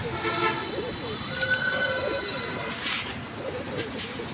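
Pet pigeons kept at home coo in low, throaty rolls over a steady hum of background noise, with a brief louder burst partway through.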